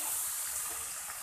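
Water poured into a pan of frying spices for a dhaba-style mixed vegetable dish, a brief steady gushing splash, faint and alone.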